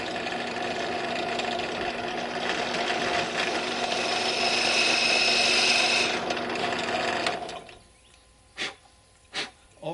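A drill bit boring slowly through very hard wood, a steady close grinding whir for about seven seconds that stops abruptly, followed by a few sharp knocks.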